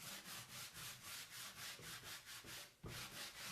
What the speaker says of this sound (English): And if you want to take off more, then you just rub harder.